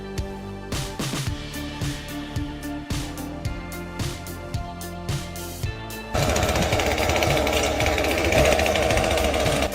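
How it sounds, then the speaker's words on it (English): Chainsaw cutting a tree, worked one-handed by a man standing on a branch high above; an engine buzzes in bursts under a rhythmic pulsing, then a steady loud roar takes over for the last few seconds. "a man cutting a tree from above, sawing with one hand while standing on a branch"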